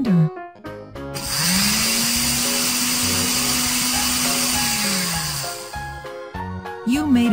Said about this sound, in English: Tap on the red button to start the blender.